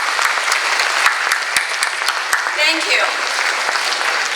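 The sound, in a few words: audience applause at a gala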